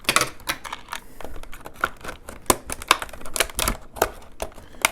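Rapid, uneven clicks and snips as scissors work through stiff plastic packaging on a Roger Jack, close by with short pauses between bursts.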